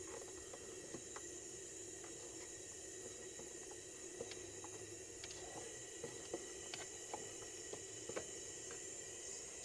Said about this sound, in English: while we wait for the oil extractor to do its thing